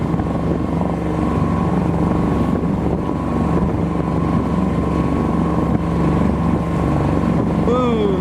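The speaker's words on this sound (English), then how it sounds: "Kind of spectacular the way the waves crash in here." Waves crashing in along a rough coastline, heard from a small boat, roar as a steady loud wash of broadband noise under a constant engine drone and wind buffeting the microphone.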